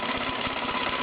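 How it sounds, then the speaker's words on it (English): A Meccano MEC1 model steam engine running and driving an SE4 Brassfield workshop, giving a steady, busy mechanical whir with a faint repeating pulse, close and continuous. "here we have the Meccano MEC1 engine driving the"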